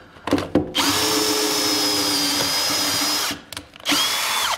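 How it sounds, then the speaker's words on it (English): A power drill chews through a metal window frame with a couple of quick revving bursts, then a loud, steady high-pitched whine for about two seconds, a brief stop, and another run close up. "When you're chewing through metal, you need to apply pressure through the drill."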